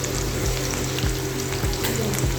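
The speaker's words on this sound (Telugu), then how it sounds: "ఆయిల్ కొద్దిగా హీట్ అయిన తర్వాత మనం కట్ చేసుకుని పెట్టుకున్న వెల్లుల్లి అల్లం వేసుకోవాలి" Chopped garlic and ginger sizzle in hot oil in a pan, a steady crackling hiss with small pops, close and continuous, with no talk.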